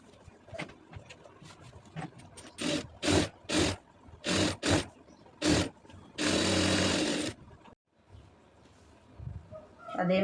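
A sewing machine stitches a blouse sleeve in a tailoring class, running in short separate bursts of rapid chattering, then one longer continuous run, with a quieter room between them.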